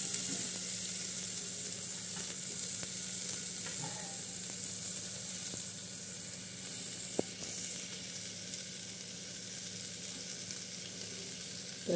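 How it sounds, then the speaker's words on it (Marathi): Spices crackle and sizzle in hot oil for the tadka of a Sunday chicken soup with mutton, a steady frying hiss with faint clicks and a single sharp pop, close and alone without talk. "हे बघा मस्तपैकी असे झणझणीत अशी त्याला फोडणी बसत आहे"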